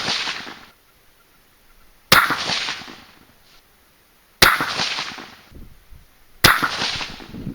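.223 Remington rifle firing 55 grain V-Max loads, four sharp, loud cracks spaced about two seconds apart outdoors, each with a short ringing tail and silence between.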